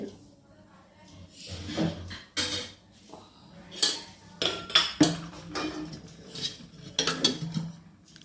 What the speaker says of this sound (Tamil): இப்போ ஒரு கடாய் அடுப்பில் வச்சுக்குவோம்